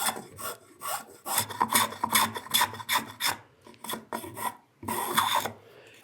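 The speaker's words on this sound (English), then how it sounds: "I'm just going to go with the spoke shave." A spokeshave shapes the chamfer on a wooden stool with repeated close, rasping strokes, several in quick succession, with a brief spoken phrase partway through.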